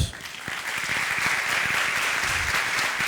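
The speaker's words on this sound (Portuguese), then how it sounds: "Vamos recebê-los com uma calorosa salva de palmas." A church congregation gives warm applause during a Bible study service, dense clapping that swells quickly and stays loud and sustained for several seconds with a few voices faintly mixed in.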